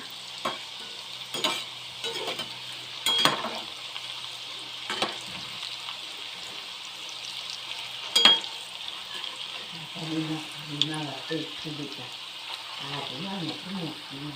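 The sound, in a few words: Parle-G biscuit jamun frying in oil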